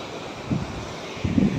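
Sea waves crash against rocks at Poompuhar beach, two thumping surges rising over a constant windy rush on the shore, close and fairly loud with no talk.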